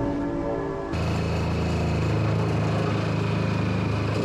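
A Sawzall reciprocating saw cuts on an abandoned Nissan 240SX S13, starting after a brief lull and then running as a steady, loud, buzzing saw stroke close by, with no talk.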